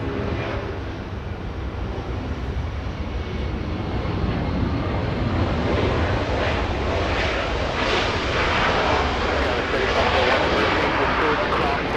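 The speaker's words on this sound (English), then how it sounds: "we also have the 757 getting a move on, flying to Minneapolis" A Boeing 757 jet departs Los Angeles International Airport with a broad, steady engine roar that slowly swells and stays loud throughout, with faint voices underneath.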